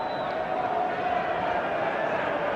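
A football crowd at West Bromwich Albion versus Tottenham Hotspur jeers the referee's assistant, a steady, dense wash of boos and murmur filling the stadium with no break across the moment.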